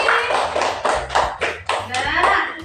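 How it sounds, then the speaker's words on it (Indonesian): Classroom students clap for a classmate in a quick, evenly spaced rhythm of about seven loud, close group claps, with faint voices murmuring underneath. "Tepuk tangan untuk Eji."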